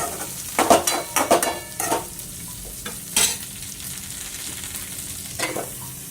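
Two chopped tomatoes are stirred into a hot frying pan for ridge gourd pickle, with a few sharp spoon scrapes up front over a low, steady sizzle that carries on quietly.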